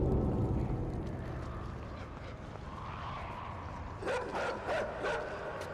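In the video game Inside, dogs give a few sharp, aggressive barks near the end, clustered in quick bursts over a low, rumbling background.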